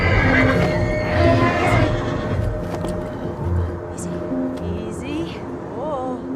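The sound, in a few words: horse neighing and hooves clip-clopping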